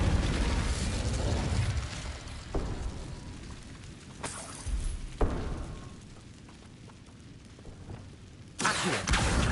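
A fire spell cast in Hogwarts Legacy bursts out as a sharp, loud whoosh late in the sequence, following several other spell effects and mechanical clicks, with no talking.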